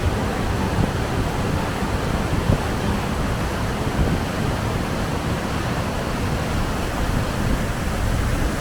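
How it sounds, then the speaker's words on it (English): Rideau Falls, twin waterfalls where the Rideau River pours into the Ottawa River in Ottawa, produces a steady, dense roar of rushing water, loud and unbroken throughout, with no voices. "On our way back, we stopped to see the Rideau Falls."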